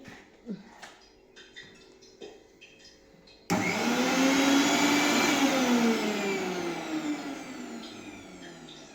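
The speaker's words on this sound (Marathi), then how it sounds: "मिक्सर चालू होतं का दीदी चालू होतं का" A kitchen mixer grinder, just washed after grinding masala, sits quiet with a few small clinks and knocks, then starts abruptly and whirs loudly and steadily, its motor pitch sagging slightly as it runs.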